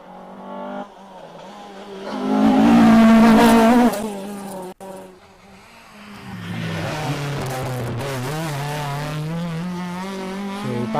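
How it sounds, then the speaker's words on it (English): A 2-litre Mark II rally car passes on a closed stage of the Ulster Rally, its engine note rising loud and close, then dropping briefly before revving hard again as it pulls away. "In theory, we should have John Devlin up next in his 2-litre Mark II."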